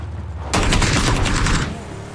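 Loud, sustained burst of rapid automatic gunfire in an online shooter video game, a dense close fusillade lasting over a second before cutting off.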